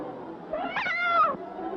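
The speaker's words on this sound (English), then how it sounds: "Yet a cat arches its back in fright." A frightened cat in a haunted-house movie trailer gives a drawn-out, rising and falling meow-like yowl, moderately loud over a quiet background.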